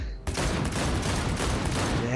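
Sustained, dense automatic gunfire from a video game on very hard difficulty, loud and continuous with rapid overlapping shots after a brief quiet start.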